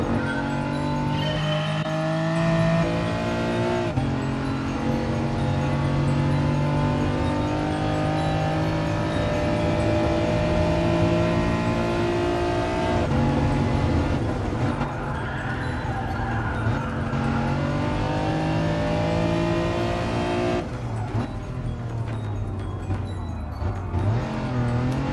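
Race car engine in the Gran Turismo and F1 2020 racing games, played with a steering wheel on PlayStation 5, a continuous loud droning whine that rises and falls with gear changes and acceleration, with no voices.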